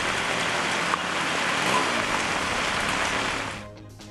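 Heavy, steady rain pours down across the Nilgiris district, a dense continuous hiss that holds loud and even for several seconds before easing off toward the end.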